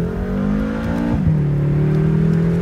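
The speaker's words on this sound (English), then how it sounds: "that was a quick acceleration of Harry's car" A new Porsche 911 GT3 accelerates hard up close at a college, its loud engine pitch climbing, dipping at a gear change and climbing again, with no talking.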